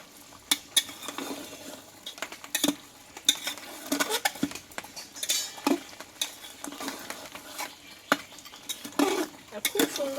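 Mutton masala for Bengali mutton curry stirred with a metal spatula in a pot, repeated scraping clanks and knocks over a steady sizzle, close and continuous for several seconds.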